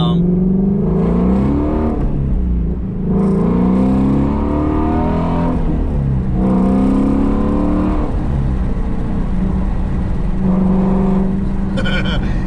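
A Ford Mustang GT350 engine revs repeatedly nearby, its throaty exhaust rising and falling in several surges with brief dips between them.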